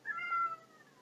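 A single short video-game cat meow, clear and close, rising then fading within about a second over a quiet background.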